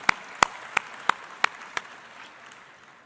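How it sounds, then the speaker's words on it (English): Six slow, evenly spaced claps ring out at a launch event in Pretoria, each sharp and distinct against a faint background of scattered clapping, fading away after about two seconds. "can you clap for him as he comes?"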